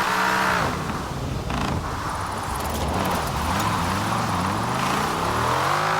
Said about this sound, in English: a car that is heavy should not be able to drift this well